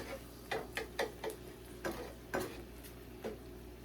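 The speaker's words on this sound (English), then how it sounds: "I think I'm just going to scramble the eggs." Eggs scrambled in a pan with a spatula, a faint low sizzle under a series of light irregular taps and scrapes of the spatula against the pan.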